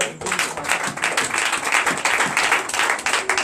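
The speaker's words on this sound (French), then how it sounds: "Donc je vous demande d'applaudir très fort." A church congregation at a night deliverance service claps loudly and continuously in dense, rapid applause throughout.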